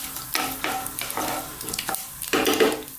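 Raw peeled potato chunks, bite-sized, go into a hot pan for aloo gobi, bringing bursts of sizzling frying and scraping stirs, close and moderately loud.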